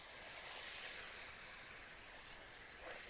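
Water poured onto spices frying in oil for a fish dish sets off a steady, fairly soft hiss that carries on for about three seconds.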